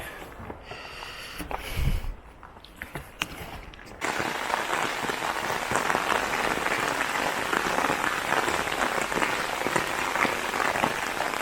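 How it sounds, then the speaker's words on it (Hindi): Quiet outdoor sounds with a few knocks on a rocky mountain trekking trail on the Rudranath route, then heavy rain suddenly pours down in a dense, steady hiss that continues to the end. "और बारिश लग गई बहुत ज़ोर से"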